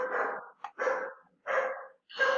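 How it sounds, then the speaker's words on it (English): A dog barks four times in separate, fairly close bursts, each a short rough yelp with breathy edges and brief silences between. "Shut up, dog."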